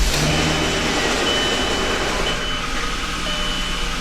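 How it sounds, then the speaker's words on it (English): A VW Eurovan VR6 engine cranks and catches, then settles into a steady, rumbling idle close by, with a broad continuous mechanical drone and no voices. "I will start it up."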